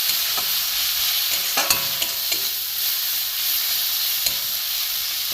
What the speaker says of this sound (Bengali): দিয়ে একটু ভালো করে কষিয়ে নেবো।